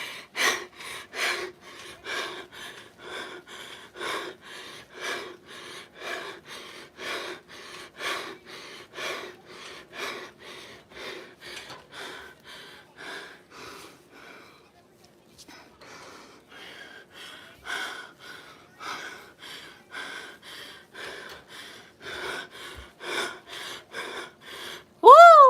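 Rhythmic heavy breathing from someone exercising during a live spinning workout, a steady series of sharp gasping breaths, close and fairly loud, with a brief pause midway and a louder burst at the end.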